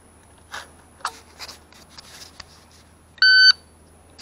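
A shot timer gives one short, loud electronic beep lasting about a third of a second near the end of a quiet stretch at an outdoor shooting range, after a few faint handling clicks and rustles.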